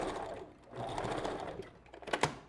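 A sewing machine back stitches a custom glueless wig, with a quick close mechanical whir that rises and falls, ending in a few sharper clicks, and no talking.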